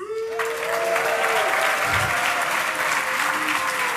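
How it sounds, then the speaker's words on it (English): Audience applause fills a panel stage at PAX Prime 2014 for a Bungie Destiny panel, a dense steady clapping crowd sustained throughout, loud and close, with a faint voice briefly audible at the start. "Please welcome to the stage with a huge round of applause"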